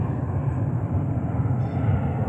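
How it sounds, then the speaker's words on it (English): A big military plane, likely a C-model cargo aircraft, passes low and loud overhead, its broad roaring rumble steady and filling the whole stretch without a pause. "That's military plane. I wish y'all could see it. That's why it's so loud."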